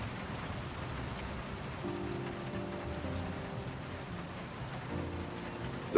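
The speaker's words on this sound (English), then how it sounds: "The rain beats against the office window." Steady rain beats against an office window in the video game World of Goo 2, a dense continuous patter with faint low tonal music drifting underneath, no voices.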